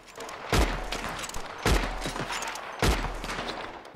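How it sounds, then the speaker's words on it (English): Three sharp gunshots in the video game Red Dead Redemption 2, spaced about a second apart, each a hard crack with a booming low tail, fairly prominent over a steady ambient bed. "You hear gunfire?"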